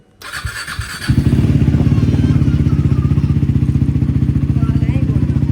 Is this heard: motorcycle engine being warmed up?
yes